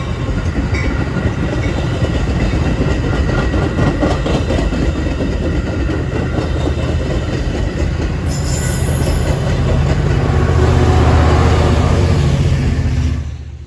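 An inbound Metra commuter train on the Milwaukee District North line passes close by, pushed by an Amtrak F40PHI diesel locomotive, with loud continuous rumble, rhythmic clickety-clack of wheels and a brief high wheel squeal.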